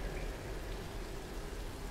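Steady rain falls in the video game Tomb Raider (2013), a soft, even hiss of drops on surfaces, faint and unbroken throughout with no voices.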